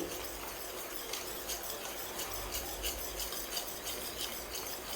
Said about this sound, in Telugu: బాగా కలుపుతూ ఉన్నట్ల మధ్య మధ్యలో